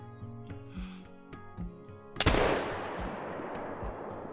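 A single sharp rifle shot fired at a black bear in the hunting game Call of the Wild, loud and sudden after quiet ambient forest tones, with a short ringing decay.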